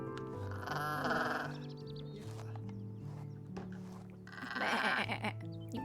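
Sheep-like bleating in a 1700s-era life-simulation video game, several wavering cries rising over layered game music and sounds, loud and close throughout.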